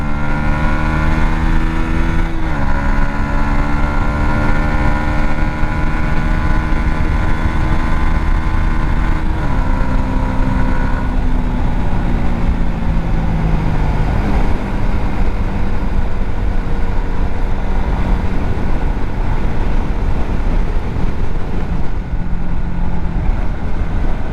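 Honda motorcycle pulling away on an open road in mild winter weather, the engine note climbing through several gear changes with steady wind roar underneath, loud and close throughout.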